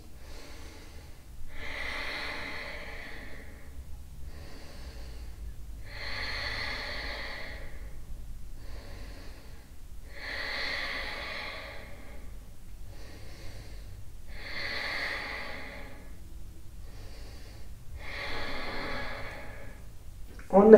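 During a strong vinyasa yoga flow, someone holds a pose and breathes heavily, with five slow, regular, audible breaths spaced evenly and each drawn out, close and fairly loud against quiet surroundings.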